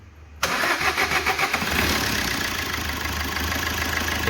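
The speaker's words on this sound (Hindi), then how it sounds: "तो गाड़ी स्टार्ट हो गई है" A Maruti Brezza engine cranks and catches after a rocker arm noise repair, then settles into a steady even idle, close and loud, with no talking.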